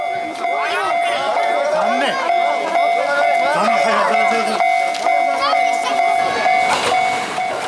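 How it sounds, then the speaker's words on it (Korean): A train passes near hillside steps leading to a shrine in Kyushu, Japan, its loud rumbling carriage noise and steady tonal whine filling the scene while voices chatter over it. "때마침 기차가 지나간 것이다."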